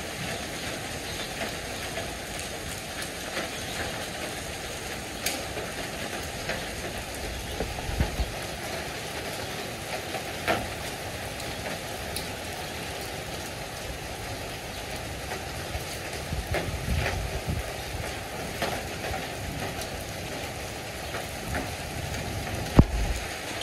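Light hail falling on surfaces at San Damiano in the Maira Valley, an alpine valley, after the temperature dropped from 38 to 15 °C, a steady dense patter of small impacts with occasional louder knocks, continuous and moderately distant.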